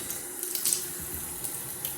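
Water poured from a container onto sealed shower grout during a water test, a steady broadband splashing and trickling stream running close and continuous, with a few brief louder spatters.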